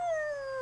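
A voice imitates his dogs howling: one sustained, close howl that slides slowly downward in pitch, heard alone with no other sound.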